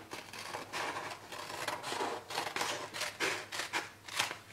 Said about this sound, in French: avec votre ciseau, eh bien, vous allez couper tous les liens.